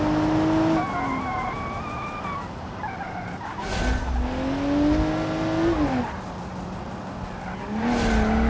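A car in the driving game BeamNG roars with a steady, loud engine tone while its tires skid and screech, with two sharp, noisy bursts like impacts partway through and at the end.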